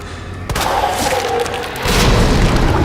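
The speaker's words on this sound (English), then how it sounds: "That was a full grenade." Full grenade in Resident Evil 2 Remake detonating with a sharp, loud blast, followed by a rolling low boom that swells and lingers for a couple of seconds, heard alone without talk.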